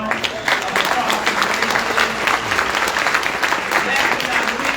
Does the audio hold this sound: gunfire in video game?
no